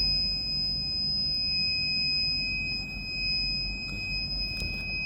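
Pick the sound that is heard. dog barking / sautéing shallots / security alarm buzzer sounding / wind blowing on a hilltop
security alarm buzzer sounding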